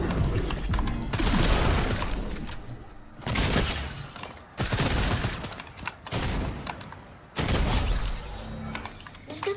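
A new weapon fires in the Fortnite video game in repeated loud bursts of rapid gunfire, each lasting a second or two, with brief pauses between them.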